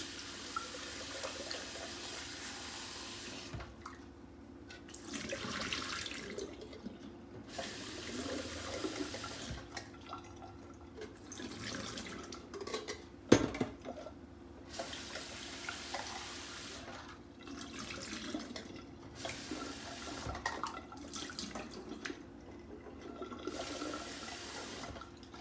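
Salted eggs are rinsed under a running kitchen tap: a steady stream of water splashes on and off, with brief surges and pauses and no talking.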